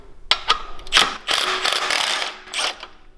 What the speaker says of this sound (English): So we need to use an 8mm socket.